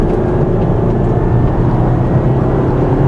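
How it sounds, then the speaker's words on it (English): Continuous engine drone from a 2015 Mazda 3 Grand Touring or Kia Forte 5 Door turbo being revved while driving, a loud, steady low hum blended with road noise, no voices. "And this engine does love to rev."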